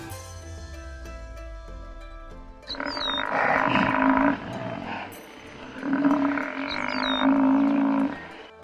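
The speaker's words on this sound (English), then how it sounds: "buffalo," A deep, drawn-out animal call, presented as a buffalo, rises twice over soft background music. Each call is loud and rumbling and lasts one to two seconds.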